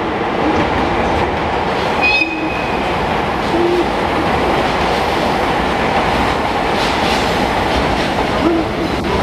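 A Hokutosei sleeper train hauled by a DD51 diesel locomotive pulls into a station platform with continuous loud rolling rumble, clattering wheels and brief squeals, close by.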